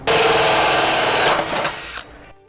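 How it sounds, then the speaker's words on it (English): A hole saw cuts through a metal shed gutter with a loud, continuous grinding whir up close, holding steady for about two seconds before winding down and stopping. "Then using a hole saw,"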